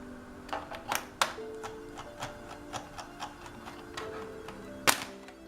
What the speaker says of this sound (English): I'm gonna just remove these screws right here